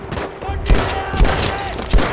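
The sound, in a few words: machine gun fire in the video game Battlefield V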